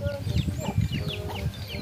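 Chickens cluck and chirp repeatedly nearby, with a murmur of voices mixed in underneath.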